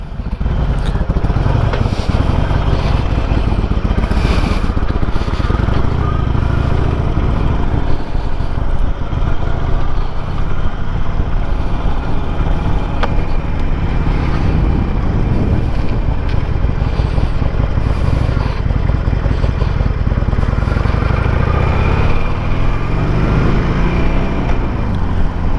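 A Harley-Davidson Sportster motorcycle on the road: a loud, constant engine drone mixed with heavy wind rush across the microphone, continuing unbroken for the whole ride.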